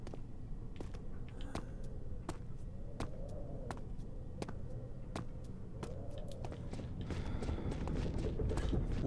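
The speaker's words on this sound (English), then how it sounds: "I hear footsteps!" Footsteps in Amnesia: The Dark Descent, a slow, even series of sharp steps over a dark, rumbling ambience that grows slightly louder toward the end.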